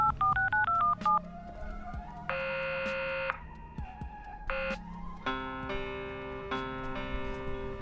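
Telephone keypad dialing in a video game: a quick run of short touch-tone beeps, then longer held tones and ticking, clear and close with no talk.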